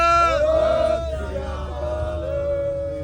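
Passengers seated on a bus shout the Sikh jaikara response together, a loud communal yell that swells at once and then trails into a lingering sustained voice.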